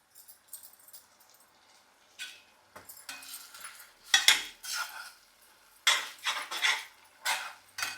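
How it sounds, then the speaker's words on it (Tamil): Tomato goes in and fried onions for a paneer gravy are stirred in a pan, with intermittent bursts of metal scraping and clattering against the pan between quiet gaps. "அப்புறம் பார்த்திங்கன்னா, இந்த தக்காளி கூட்டு போட்டுக்கலாம்."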